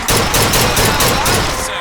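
Gunfire cracks at a fairground shooting gallery in BioShock Infinite, a loud, rapid burst of closely spaced shots filling the short moment.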